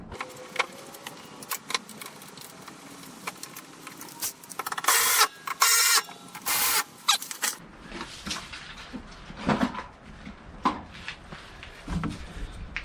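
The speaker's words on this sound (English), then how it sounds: "Put these 3 bolts back in." Bolts are threaded back into the fender of a Toro SS5000 zero-turn mower, giving close metallic clicks, ratcheting and clinks with a few louder bursts of clatter partway through.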